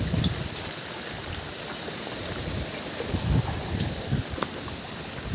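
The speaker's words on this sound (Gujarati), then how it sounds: "બહુ વરસાદ આવે છે અત્યારે તો" Heavy rain pouring over a cotton farm, a broad steady hiss of falling water with low rumbling gusts, continuous and alone with no talking.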